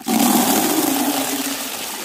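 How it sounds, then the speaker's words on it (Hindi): Water gushes from a hose pipe into a bucket outdoors in a hill village, a steady, fairly loud rushing stream with no talk over it. "पहले मैं पानी भर के रख देता हूँ धूप में।"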